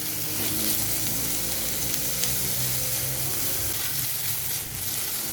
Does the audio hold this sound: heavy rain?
no